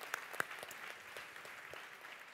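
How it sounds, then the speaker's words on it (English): Audience applause at a live event, faint and distant, with a few sharper individual claps near the start over a soft, sustained patter of clapping. "Big round of applause."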